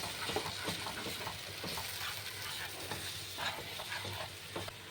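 Turmeric and Kashmiri chili powder fry in a pan for a tribal chicken curry, a steady close sizzle with scraping stirs throughout, with no talking.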